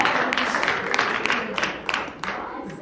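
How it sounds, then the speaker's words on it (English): Applause from an audience at a professional talk in New York, a dense wash of clapping that holds steady at moderate loudness throughout, with brief voices mixed in. "Round of applause."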